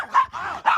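A dog gives two or three quick, loud yipping barks in short succession, close by and alone with no talking.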